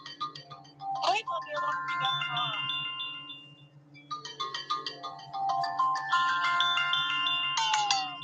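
A phone alarm rings with a bright, repeating electronic melody of chiming tones that runs for several seconds, pausing briefly midway before resuming, loud and close with a voice faintly present beneath it.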